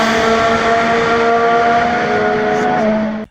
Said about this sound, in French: Mesdames et messieurs, démarrez vos moteurs,